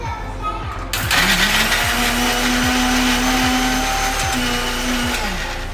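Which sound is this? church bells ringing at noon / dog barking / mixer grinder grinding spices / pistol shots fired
mixer grinder grinding spices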